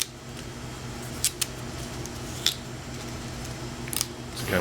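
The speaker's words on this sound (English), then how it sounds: "we're just removing these lower leaves until it seems like enough of that fleshy core is exposed" Fibrous leaves peeled one by one off a pineapple top, giving a few sharp snapping tears spaced apart over a low steady background hum, close and fairly quiet.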